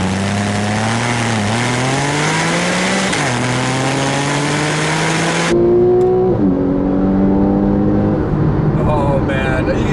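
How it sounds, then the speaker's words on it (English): A 2012 Porsche 911 Carrera S with a PDK dual-clutch gearbox revs hard and blips through several downshifts, the engine note climbing and stepping close and loud, with someone talking over it. "Yeah, even the downshifts are absolutely great in this car."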